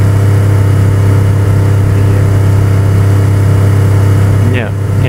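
Car engine idling steadily and loudly in DayZ, a constant low drone holding through the whole stretch with a brief shift near the end.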